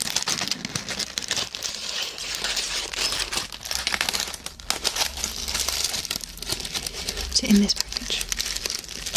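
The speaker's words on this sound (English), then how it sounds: "I do really love this package. It's so scratchy and crinkly." A makeup package is handled close up, giving dense, continuous crinkling and scratchy rustling while a soft whispering voice speaks over it.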